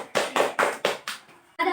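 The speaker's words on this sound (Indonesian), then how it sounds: "Oke, tepuk tangan untuk Hafiza." A handful of claps in a Year 7 maths classroom, five broad bursts in quick succession, strong at first then fading, with a short faint sound at the end.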